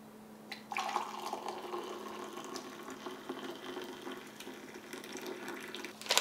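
Hot water poured from a pot into a cold-weather MRE coffee pouch, a steady close liquid stream running for about five seconds with a faint crinkle at the end, no talking.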